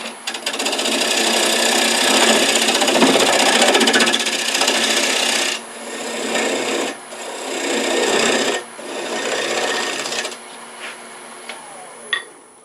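A rasping, continuous scraping of a tool cutting a wooden bowl on a lathe, loud and steady, easing off in bursts toward the end with brief pauses.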